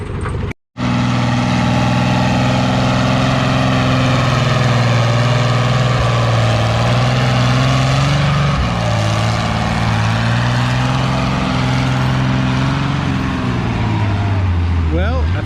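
Ford tractor nicknamed the Funky Ford roars through a pull at a vintage farming days tractor pull, 8 mph 4,000 lb class, a loud continuous engine drone with shifting pitch after a brief dropout, under an announcer's voice.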